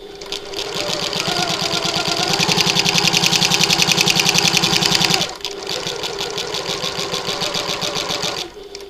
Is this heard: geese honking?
no